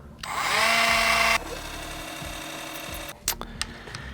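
A rotary tool fitted with a carbide burr grinds an airsoft SCAR part, giving a loud, steady high-pitched whine for about a second, then a lower sustained hum followed by a few short clicks and knocks.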